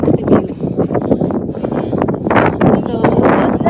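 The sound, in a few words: wind on a mountain summit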